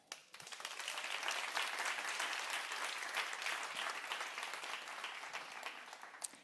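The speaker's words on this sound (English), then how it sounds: "That's worth an applause." Applause fills a room at a social innovation pitching tournament, a fairly quiet, even spread of many hands clapping that swells quickly and holds steadily to the end.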